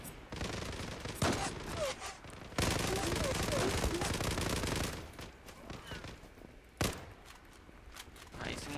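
Gunfire in the online shooter Zula during an escort-mode match, with dense automatic bursts and sharp individual shots, loud and close, plus footsteps and a few heavy thumps, all under a steady layer of game noise.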